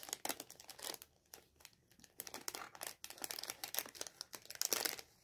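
A small plastic packet of tiny transparent coffee-themed stickers crinkles and rustles in quick, uneven bursts, close but very soft, with no voice.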